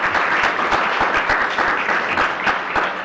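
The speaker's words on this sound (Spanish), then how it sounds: "le pediríamos un aplauso para darle esta bienvenida" An audience at a seminar on capitalism and geopolitics applauds steadily, with many individual claps standing out in a lively, close-miked burst of about three seconds.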